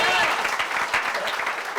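Audience in a hall clapping for the speaker at a business talk, a brief burst of scattered, close applause that fades slightly.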